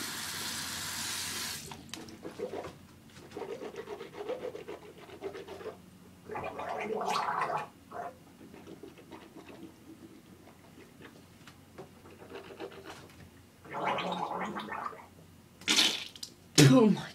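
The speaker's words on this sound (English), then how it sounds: "I gotta fucking rinse my mouth out." Water sloshing and gargling in the mouth during a rinse, bursts of bubbling and spitting separated by quiet pauses, with a tap running briefly at the start, close and fairly loud.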